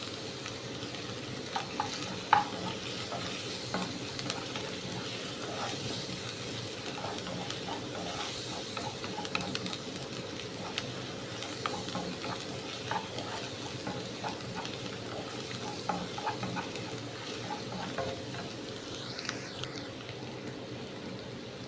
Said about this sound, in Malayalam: ഇനി നമുക്ക് ഇതിലേക്ക് കുറച്ച് കറിവേപ്പില ഇട്ട് കൊടുക്കാം